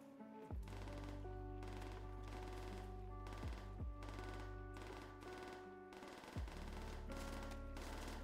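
Repeated bursts of gunfire in a custom zombies shooter map, fairly faint and evenly paced, over a steady droning game soundtrack with low sustained tones.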